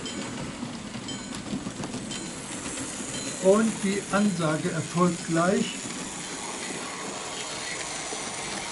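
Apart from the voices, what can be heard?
Märklin model railway BR 86 locomotive with freight train passing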